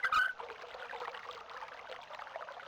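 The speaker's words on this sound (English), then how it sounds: "I think I can still hear the water flowing." Water flowing in the puzzle adventure game Myst: Masterpiece Edition, a steady, fairly faint rushing trickle that runs on alone for the whole stretch after a brief louder burst at the start.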